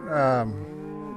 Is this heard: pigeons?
no